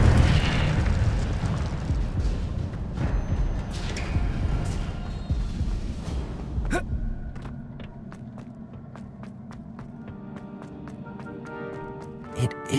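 A fire spell cast in the Hogwarts Legacy video game: a loud, roaring, eruptive burst of flame with rumbling booms that fills the first half, then fades into quieter crackles and sharp clicking taps.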